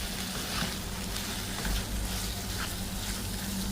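Garlic and Schezwan sauce being tossed and stir-fried in a pan give off a steady, close sizzle with light scraping and stirring textures throughout.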